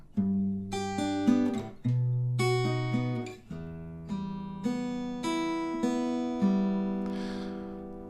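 Plucked acoustic-style guitar notes and chords from a song's ending ring out in a slow closing phrase, each decaying before the next, clear and close with no voices.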